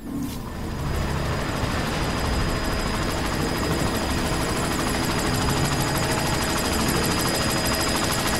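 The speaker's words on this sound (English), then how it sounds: "You've got to stop that chopper." Helicopter in the game Deus Ex: Mankind Divided, its rotor thumping in a loud, steady, continuous drone that fills the whole stretch without any speech.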